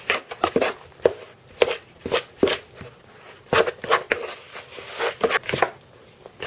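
Cake dough made with baking powder, vanilla sugar and vanilla oil is mixed by hand in a bowl, giving a string of close, irregular thumps and scrapes that come in bursts.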